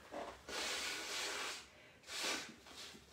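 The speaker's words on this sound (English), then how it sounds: "I just need to quickly blow my nose" Someone blowing their nose at close range during a craft lesson: a short snort, then two long, loud breathy blasts into a tissue, with a brief pause between them.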